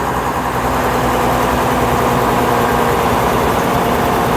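The engine of a 1956 Daimler double-decker bus, over 8 litres, rumbles steadily at a low, loud drone, heard close up from inside with constant mechanical vibration.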